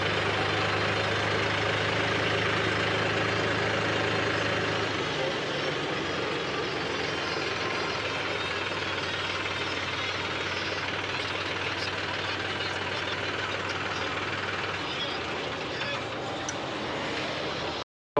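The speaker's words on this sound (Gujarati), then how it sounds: "આપણે આપણું ટ્રેક્ટર લઈને આવી ગયા છે" A tractor engine idles in a queue of vehicles at the Jetpur market yard, giving a steady, loud low rumble that holds evenly for the whole stretch before cutting off abruptly.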